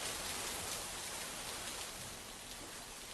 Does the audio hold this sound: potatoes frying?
no